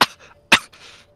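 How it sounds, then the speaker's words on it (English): Two sharp coughs from one person, each a loud harsh burst followed by a softer trailing rasp, spaced about half a second apart, close and alone, during a video game league match broadcast. "Cough, cough."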